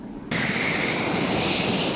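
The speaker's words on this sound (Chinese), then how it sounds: "IDF 经国号战斗机则来进行单机性能展示敌机飞行" An IDF Ching-kuo fighter jet, its engine suspected of leaking oil and throwing flames from the tail, roars overhead during a solo display flight, a loud steady jet rush that cuts in abruptly and holds constant.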